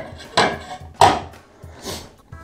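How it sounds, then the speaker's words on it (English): The lid of a Martinique pink toe tarantula (Caribena versicolor) enclosure is set down with a few close, hollow knocks, two sharp ones followed by softer bumps, with quiet gaps between. "they're on the lid, so I'll put the lid there"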